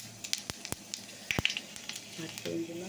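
Bengali five-spice seeds hit hot oil with a sharp crackle and a few quick pops, then settle into a soft, close sizzle.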